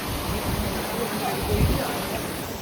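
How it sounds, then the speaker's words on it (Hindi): Water pouring down from high above beside the Kedarnath trekking trail near Bhimbali in the Himalayas, a steady broadband rushing roar like a waterfall, continuous and fairly close, with faint voices mixed in. "ये ऊपर से पानी आ रहा है जो मैंने आपको अभी दिखाया था।"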